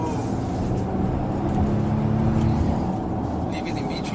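Volvo XC90 T8 Inscription Plus cornering in B3 around 4000 RPM on a winding hill road, a steady droning engine and road roar heard from inside the cabin, loud and continuous with a voice talking over it.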